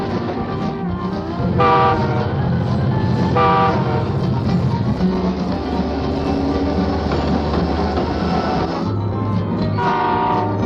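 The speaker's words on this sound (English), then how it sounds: "Let's watch some diesel locomotives run." Diesel locomotives rumble past with a deep engine drone, and the horn blasts several times, loud and near.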